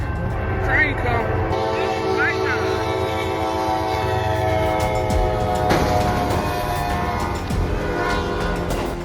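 A train passes a flashing-light level crossing, its horn sounding in sustained tones over a continuous loud rumble and rail noise, with brief higher whistle-like swoops early on.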